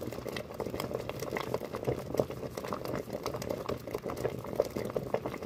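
Pig ears boiling in seasoned water in a pot, a steady bubbling and popping patter that carries on evenly throughout, close and moderately loud, with no voices.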